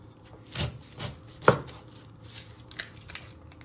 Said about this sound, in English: Then you chop your other ends off.